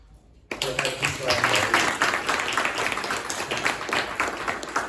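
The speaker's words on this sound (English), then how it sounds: "And applaud yourselves, ladies and gentlemen." Audience at a regional meeting bursts into sustained applause after a brief quiet moment, a dense wash of many hands clapping that stays loud and steady throughout.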